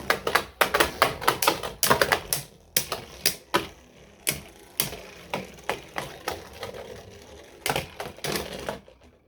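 Beyblade Burst spinning tops, including Infinite Achilles A6, are ripped from launchers and clash in a stadium, giving a quick series of sharp, loud clacks and ticks at irregular intervals with brief spinning whirs between hits.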